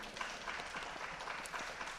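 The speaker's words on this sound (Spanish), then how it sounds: "Un aplauso para ustedes también." Audience applause at a recital of twentieth-century Yucatecan songs: steady, faint clapping from a crowd throughout, with no voices on top.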